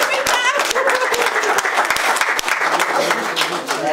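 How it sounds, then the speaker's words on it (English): Township board meeting attendees give a staff member a round of applause, dense close clapping throughout with voices cheering and talking over it. "Let's give Amy a round of applause, because you look like you need one, Amy."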